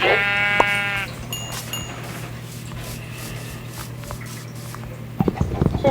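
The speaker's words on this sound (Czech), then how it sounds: "Ale je tady ovce, tu zabiju." A sheep in a blocky survival video game bleats once, clear and close, followed by soft game noises and footsteps, then a few sharper knocks near the end.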